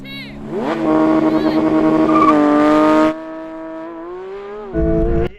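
A car engine roars and revs up hard as it launches from a race start with poor traction, holds a high pitch, then drops and surges again, loud and close.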